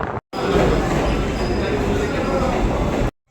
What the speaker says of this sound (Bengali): আর এই দেখো আমরা এখন গিয়ে ট্রেন ধরবো রানাঘাট থেকে।